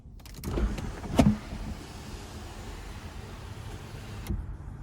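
Electric motor of the dual sunroof in a 2020 BMW 840xi M Sport Gran Coupe, a soft steady whine running for several seconds inside the quiet cabin, with a few faint clicks at the start and end.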